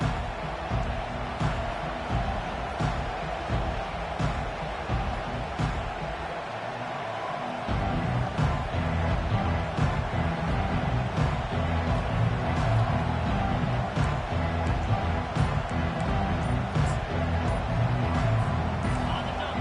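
A stadium crowd at a football game roars steadily after the opening kickoff, a dense wash of cheering that swells slightly partway through, with a commentator's voice faintly over it.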